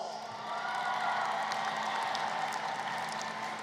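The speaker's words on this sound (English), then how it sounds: "Give yourselves a round of applause." Steady, dense applause from a commencement ceremony audience at Lincoln University, a sustained wash of clapping with scattered cheers, moderately distant and continuous throughout.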